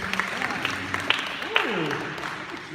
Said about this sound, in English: let's give them a warm applause as they make their way up here